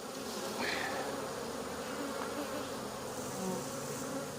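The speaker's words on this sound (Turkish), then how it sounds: "bakın şurada da arılar çıkıyor alt tarafta" A steady, dense buzz of many honeybees at a hive, continuous and close, with individual bees droning past now and then.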